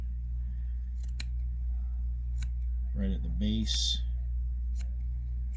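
Scissors snip a small chunk of craft fur, a couple of quick crisp cuts close to the microphone, while a voice talks briefly over a steady low hum.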